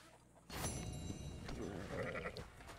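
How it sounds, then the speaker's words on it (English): A sheep bleats close by in the video game Red Dead Redemption II, a short wavering cry over a low background hum. "What up, sheep?"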